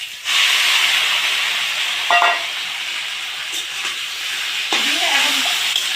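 Crushed chalta (elephant apple) hits hot oil with whole mustard seeds and bay leaf, giving a steady, close, hissing sizzle throughout, with a few clinks of stirring and a brief voice speaking over it.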